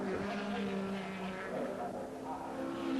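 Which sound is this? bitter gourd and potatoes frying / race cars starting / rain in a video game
race cars starting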